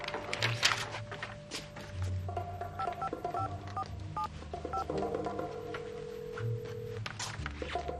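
A telephone number dialed on a keypad, a quick run of short DTMF beeps followed by a longer steady tone, clear over a low background hum with no talking.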